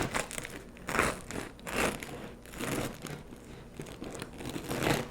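A really good bread knife sawing through the really crispy crust of fresh homemade bread held on its end, giving close, loud, rhythmic crunching and crackling strokes, about six in a row, with no talk.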